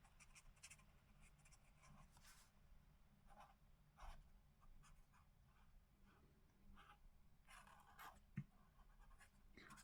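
Pastel highlighter being used with its pointed end to colour on paper, faint intermittent scratchy strokes in short bursts over a quiet background, with no voices.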